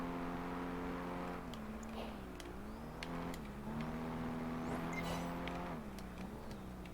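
A race car engine in the video game Project Gotham Racing 4 drones steadily at close range, its pitch stepping down and climbing again a few times as it shifts and revs, with no voices and little background noise.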